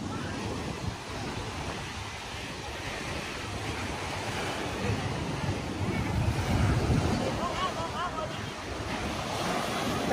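Loud, continuous surf of high ocean waves crashing and washing in on an east coast after heavy rain, mixed with strong wind buffeting the microphone.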